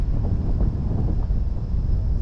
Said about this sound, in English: I want to cut through this wind.